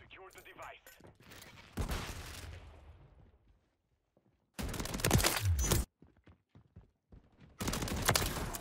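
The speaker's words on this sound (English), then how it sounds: "I sprayed the whole damn mag at him, bro." Automatic weapon fire from a full-auto shotgun-style rifle in Call of Duty: Modern Warfare 3, loud bursts in two separate stretches with quieter game noise and a few footsteps between them.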